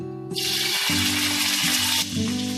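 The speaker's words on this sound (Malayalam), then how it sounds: "എണ്ണ ചൂടാകാൻ തുടങ്ങിയിട്ടുണ്ട് അതിലേക്ക് നമുക്ക് ആദ്യം പച്ചമുളക് ഇട്ട് കൊടുക്കാം" Green chillies hit hot oil in an uruli with a loud, close, steady hiss of frying that runs unbroken for about two seconds, then drops briefly and resumes, with a low humming tone underneath.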